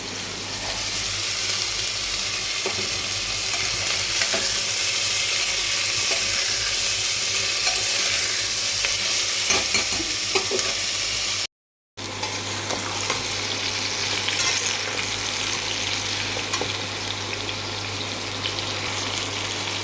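Ginger-garlic paste mixed into chicken stew in a pan, a continuous loud sizzle with stirring and scraping, briefly cut to silence midway, then the frying resumes; nobody speaks.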